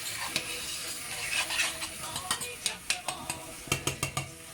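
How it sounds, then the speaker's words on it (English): Mushroom risotto with garlic and thyme being stirred in a pot, giving a series of soft scraping and clinking spoon strokes that grow more distinct toward the end, close and moderately quiet. "Now I'm gonna give it a little stir"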